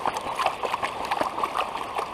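Gold pan swirled in river water, rhythmic sloshing splashes and gurgles repeating several times a second, close and fairly loud, with no talk.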